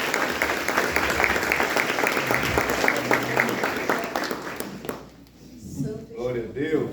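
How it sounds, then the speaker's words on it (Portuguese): A church congregation applauds during a worship service, brisk dense clapping for about five seconds, then fading out as a voice speaks over the quieter room. "Vamos aplaudir o Senhor."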